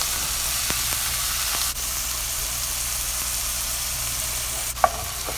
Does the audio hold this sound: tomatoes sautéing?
yes